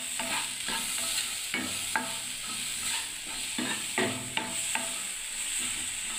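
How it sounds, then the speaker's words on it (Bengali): Salt and turmeric being stirred in a hot pan for semai, a spoon scraping in repeated strokes over a continuous sizzle, close and fairly loud, no voices. "এবার আমি নাড়তে থাকবো।"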